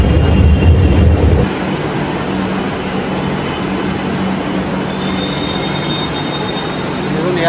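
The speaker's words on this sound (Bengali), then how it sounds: "এয়ারপোর্টের যে মেট্রোটায় করে আমরা এলাম এয়ারপোর্ট থেকে, সেই মেট্রোটা কিন্তু এবার ছাড়বে" A Kolkata airport metro train pulls away from an underground platform with a steady rumbling roar of wheels on rail and a faint high squeal, loud and continuous after an abrupt shift in the opening seconds.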